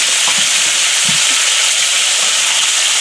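Groundhog meat searing in hot grease in a pan, giving a loud, steady broadband sizzle with a few small pops, heard alone with no talk.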